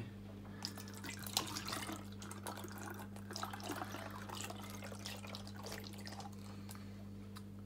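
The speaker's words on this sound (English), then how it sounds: "Got my test tube up ready and my funnel in it, so we're going to add some apple juice now." Apple juice for cider trickles through a funnel into a test tube, a faint, uneven liquid gurgle and drip over a steady low electrical hum, close by with no talk.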